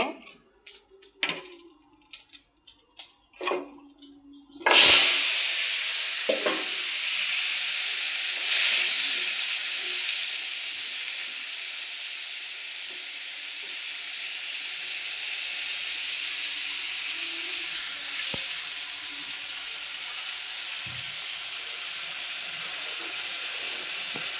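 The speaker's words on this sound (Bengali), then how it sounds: "এখন আমি আলুগুলো একটু ভেজে নিব" Potatoes dropped into hot oil for a fish and potato curry: after a few seconds of kitchen clatter, a loud sizzle bursts in and settles into a steady frying hiss that continues to the end.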